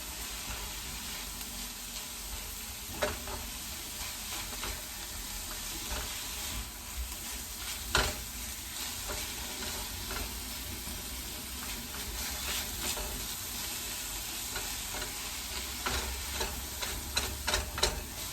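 Spinach wilting in a hot pan while being stirred, a soft continuous sizzle with occasional scraping and tossing strokes, fairly quiet and close, no voices.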